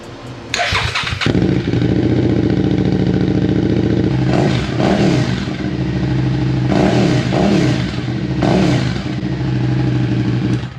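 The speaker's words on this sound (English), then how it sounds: "We're gonna listen to the slip-on M4 exhaust real quick before I change it to the other one." A 2023 Suzuki SV650 motorcycle with a slip-on M4 exhaust starts with a sharp crank, then settles into a loud, steady, close-up idle, punctuated by several short throttle blips.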